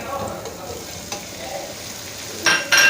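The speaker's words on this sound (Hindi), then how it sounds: "लहसुन भुनने की खुशबू आने लग जाएगी" Garlic fries in a pan with a soft, steady sizzle, punctuated by light stirring scrapes and a few sharper utensil clinks near the end, close and moderately loud.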